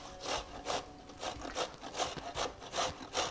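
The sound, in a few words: carrots being grated on a box grater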